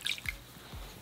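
Water drips and splashes softly at a sink while a face is being wet for washing: two low, close plops in quick succession over a faint running-water hiss.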